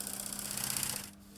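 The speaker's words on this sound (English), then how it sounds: "is busy at the sewing machine." A sewing machine runs steadily, used to wrap piping cord in green fabric for a restored 1970s sofa, giving a continuous mechanical whir with a faint rattle that fades slightly near the end.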